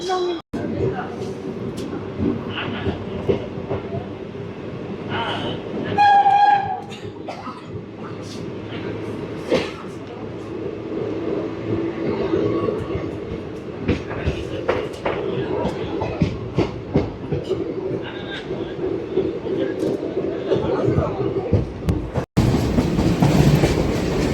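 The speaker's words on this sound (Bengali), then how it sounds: "পাশ থেকে হলদিয়া আসানসোল ট্রেন ছুটে চলেছে" A Haldia–Asansol superfast express train runs past on a parallel track near Kharagpur, its steady rumble and clickety-clack of wheels filling the scene throughout, with a brief louder burst midway.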